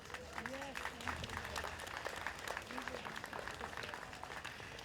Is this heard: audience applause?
yes